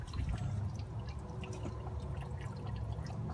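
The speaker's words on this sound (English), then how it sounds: "coolant starts dripping out of the engine there" Coolant drips and trickles steadily from a 2010 Ford Fusion engine, a close, continuous patter of fluid falling with no voices.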